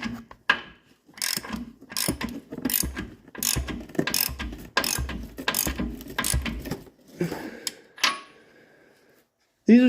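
A 1/2-inch ratchet tightens bolts on a 1990 GMC Sierra, making rapid rhythmic clicking strokes in repeated bursts close up, with a short quiet gap near the end.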